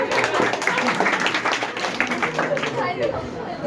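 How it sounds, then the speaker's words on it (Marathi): An audience in a lecture hall claps together, a dense, continuous patter of hands mixed with murmured chatter, fairly loud and close throughout. "एकदा टाळ्या झाल्या पाहिजे."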